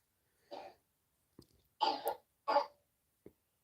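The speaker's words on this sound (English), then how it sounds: "child in the background coughing on the monitor" A small child coughs over a baby monitor in the background: a few short, faint bursts with quiet gaps between them, distant and muffled, with no talking.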